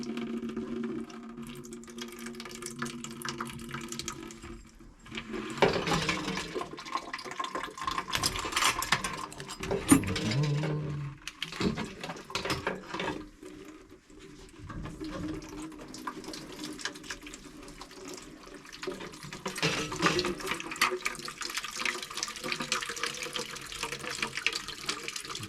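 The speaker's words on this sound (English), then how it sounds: "Just gonna let this drain into the bucket." Water draining out of a home heating system into a bucket on a no-heat service call, a steady running splash with shifting gurgles and some clanking mechanical noises, heard without speech.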